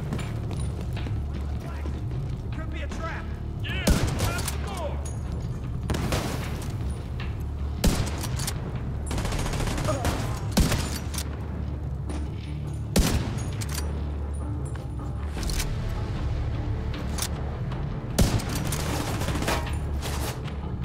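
Repeated loud gunshot bursts and mechanical weapon clatter from the shooter game The Division 2, spaced every few seconds over a constant low rumble, with a voice speaking in between.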